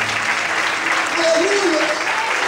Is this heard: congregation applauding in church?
yes